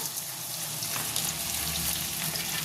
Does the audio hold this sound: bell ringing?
no